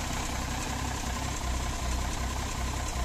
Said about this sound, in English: this is the very last time this engine will run on the dual Solex carburetors